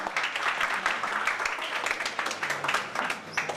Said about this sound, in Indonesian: Tepuk tangan yang lebih meriah lagi dong.